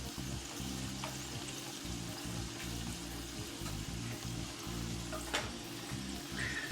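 Drained corn cooking in butter in a pan over medium-high heat, giving a steady, close sizzle with soft bubbling and occasional light scrapes, no talking.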